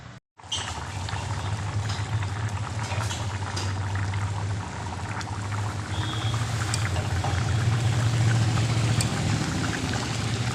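Chana dal, split chickpea lentils, boils in a pot with a loud, continuous bubbling and simmering hiss that holds steady throughout, close by and unaccompanied by talk.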